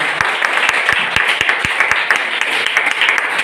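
Audience applause for seniors at a celebration in Bhiwandi, a loud, close round of clapping with sharp individual claps standing out over the crowd for a few seconds.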